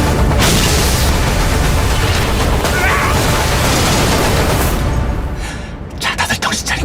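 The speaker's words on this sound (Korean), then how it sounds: "또한 무너지는 다리." Massive bridge collapse from the trailer for the disaster film Project Silence, with dense, loud rumbling crashes and debris roaring continuously for about five seconds before thinning into scattered cracks and impacts.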